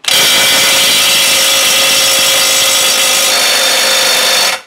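A cordless brushless 20V impact wrench set to 700 Nm works at a nut, giving a loud, continuous buzzing hammer that runs steadily for about four and a half seconds before cutting off, with no talk over it.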